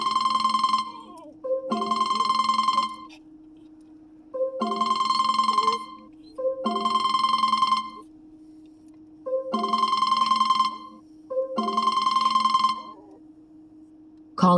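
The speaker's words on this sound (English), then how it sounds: "And our telephone's ringing." A telephone rings in repeated two-part bursts, six clear ring cycles with short pauses between, loud and close, with a steady low hum underneath and no talk.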